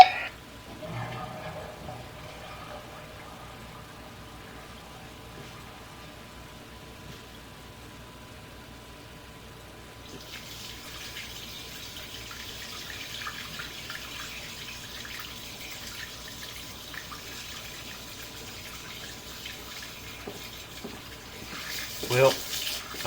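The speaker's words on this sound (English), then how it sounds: "Yeah, one more flush" A toilet flush drains through a sewer line, first faint, then a steady rushing hiss of water in the pipe from midway on, swelling into a louder gush near the end.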